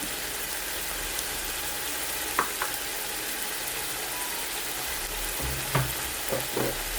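Chili, coriander and pepper powders stirred in a hot pan, a steady soft sizzle broken by a few brief scraping clicks of the spoon near the middle and end.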